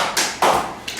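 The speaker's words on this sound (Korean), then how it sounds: "박수 쳐라" A few sharp hand claps from students in a classroom, two distinct loud bursts with a fainter one at the end, close by and without talk.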